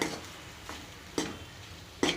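A spoon scrapes through a thick potato masala mixture for bonda in a pan in a few slow, separate strokes, with a soft sizzle underneath and no talking.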